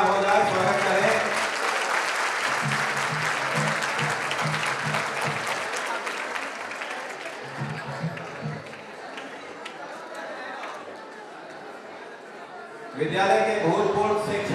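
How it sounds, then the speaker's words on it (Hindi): An audience at a school alumni meet in Begusarai applauds steadily to welcome a Saraswati Vandana, with dense sustained clapping throughout, occasional voices under it, and a louder swell of cheering near the end. "जहाँ तालियां हो जाए, स्वागत करें"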